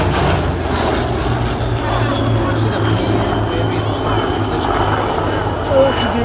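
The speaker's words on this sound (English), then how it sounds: "It is in fact the wonderful Mark II, the baby Spit, and the Mark V Spitfire as well." A Spitfire Mark II and a Mark V fly past at an air show, their propeller engines making a steady droning roar that fills the scene, with a commentator's voice talking over it throughout.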